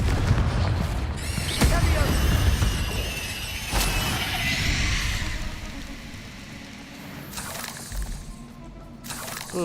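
A Confringo fire spell from the Hogwarts Legacy video game bursts out in a sharp blast, answered by several more booms and cracks, with battle effects and music running throughout.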